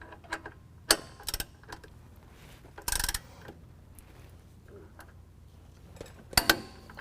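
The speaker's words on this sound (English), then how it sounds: "now we're going to use a 22mm on each side and tighten this down" Ratchet wrench with a 22mm socket tightening suspension bolts on a 2020 Ram 2500 leveling kit install: a few sharp, brief clicking bursts and one longer ratcheting run, separated by quiet shop background.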